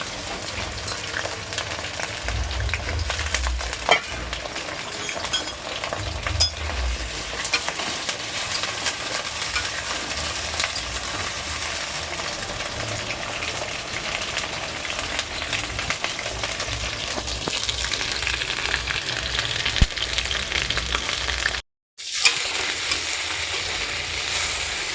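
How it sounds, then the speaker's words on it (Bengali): Potatoes frying in oil in a pan keep up a constant dense sizzle and crackle for about twenty-five seconds, close and fairly loud, with occasional stirring knocks and a short dropout near the end. "এখানে আলুটা ভাজা হয়ে গেছে, এখন পেঁয়াজটা দিয়ে দিলাম, পেঁয়াজটা ভাজবো"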